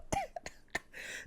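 A single person coughs in a few short, rough bursts at close range, with no talking around it.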